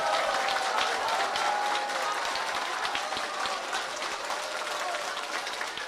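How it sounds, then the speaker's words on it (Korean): A lecture audience claps warmly for the speaker, a dense, steady round of applause that fills the room at an even level throughout. "뜨거운 박수와 함께 인사를 한번 올리시기 바랍니다."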